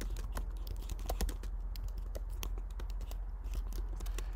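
Steady run of rapid computer keyboard keystrokes while text is entered into Photoshop, close and fairly quiet with uneven clicking rhythm and no talk.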